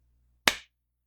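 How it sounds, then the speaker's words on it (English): A single sharp hand clap rings out in a quiet room, one crisp isolated smack with a short decaying tail and nothing else around it. "now I have to clap again"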